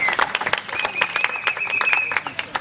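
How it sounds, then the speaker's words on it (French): Guests applaud at a civil wedding ceremony in a town hall, a quick burst of individual claps about three seconds long with some voices and chatter mixed into the room. "Nous pouvons applaudir."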